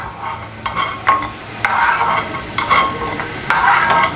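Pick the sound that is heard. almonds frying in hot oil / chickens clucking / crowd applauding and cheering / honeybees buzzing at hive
almonds frying in hot oil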